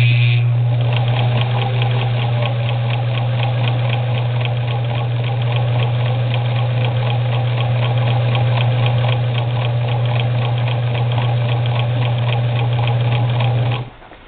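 A 1968-1972 Singer Model 237 sewing machine runs steadily and close up as it stitches a braided rug in a circle. It keeps one loud, continuous whir with a fast even stitch rhythm for about fourteen seconds, then stops.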